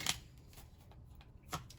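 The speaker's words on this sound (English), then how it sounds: "Let's shuffle up these tarot cards a little bit." Tarot cards being shuffled by hand, a few soft riffling bursts near the start and again toward the end, quiet and close with no talking.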